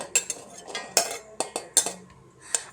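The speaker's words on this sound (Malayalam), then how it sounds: "ഒരു മിക്സിയുടെ ജാറിലോട്ട് ഇട്ട് കൊടുക്കാം" Small onions, green chillies and other chakka puzhukku paste ingredients are dropped into a mixer jar, giving a string of sharp, close clinks and taps, several in quick succession with brief pauses, and no talk.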